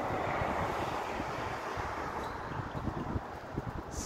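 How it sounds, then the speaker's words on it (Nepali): A gentle breeze on a hiking trail gusts across the microphone as a steady broadband rush, with a few faint low thumps as it fades slightly toward the end; no talking. "सरर मन्द हावा चल्ने ढुक्क मधुरो घाम लागेको"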